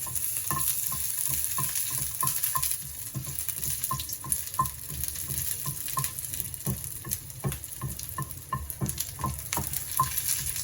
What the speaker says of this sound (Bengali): এই লঙ্কাগুলোকে আমি ভেজে নেবো ভালো করে